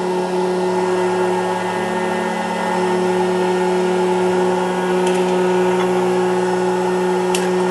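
A hot-air popcorn popper runs with a steady, loud whirring hum of fan and motor, unchanging throughout, with a couple of faint ticks near the end.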